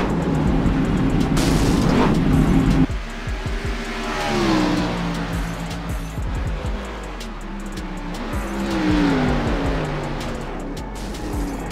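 Race cars on the Chicago street course in iRacing, a loud engine roar that cuts off abruptly, followed by several cars revving and accelerating past in rising and falling sweeps, with no talking.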